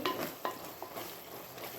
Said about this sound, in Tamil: எல்லாம் சேர்ந்து நல்லா வதங்கி வந்துடுச்சு.